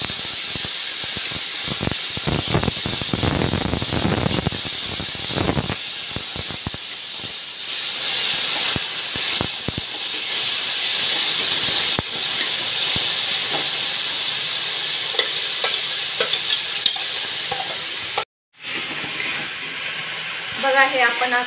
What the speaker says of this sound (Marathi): मोहरी 1 चमचा, भिजवून घेतलेली डाळ टाकूया आता